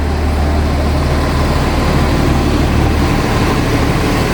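Disney resort bus idling at the Saratoga Springs bus stop, a steady low diesel rumble with broadband engine noise held constant and close throughout, no talking.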